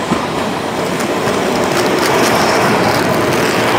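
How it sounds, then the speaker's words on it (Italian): A tram rolls in with a continuous loud rumble and clatter of wheels on rails, with faint squeal, steady throughout and no voices. "Eccolo il tram, mo mi carica."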